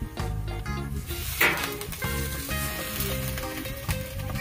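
Pork chops on a grill grate give off a constant close sizzle, broadband and even, with brief louder crackles along the way.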